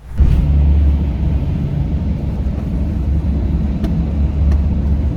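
Steady low road rumble and engine drone inside a car driving at speed, continuous and fairly loud, with a few faint clicks and no talking.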